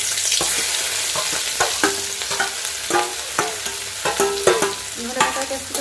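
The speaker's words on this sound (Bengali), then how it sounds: "তেল গরম হয়ে গেছে, দিয়ে দিল একটু জায়ফলের গুঁড়ো" Nutmeg powder dropped into hot oil in a home kitchen pan gives a steady close sizzle, broken by scraping and clinking stirs of a utensil against the pan.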